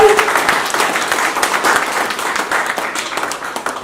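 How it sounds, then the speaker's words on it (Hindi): Audience clapping at a literature festival in a hall, a steady, moderately loud patter of many hands lasting a few seconds, with faint voices mixed in. "जोरदार तालियां होनी चाहिए एक बार।"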